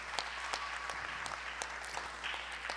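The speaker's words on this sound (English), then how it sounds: "Could you please give him a big applause" Applause breaks out at a prize presentation for tournament and title cup winners, a crowd clapping steadily at a distance, faint but continuous, over a low constant hum.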